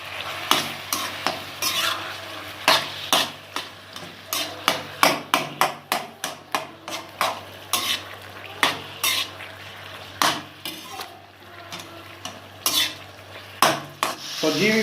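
Chicken keema with salt is stirred and fried in a karahi, a busy run of metal spatula scrapes and clanks against the pan over a continuous sizzle, close and rhythmic.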